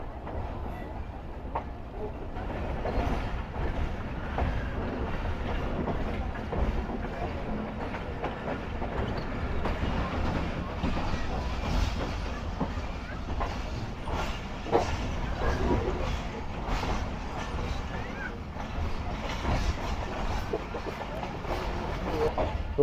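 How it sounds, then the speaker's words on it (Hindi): The Rehman Baba Express rolls along a station platform with a steady, continuous rumble and faint clatter from the wheels. The sound stays close and fairly even throughout, with some voices now and then in the background. "ट्रेन हमारी प्लेटफॉर्म नंबर 3 पर ही जा रही है"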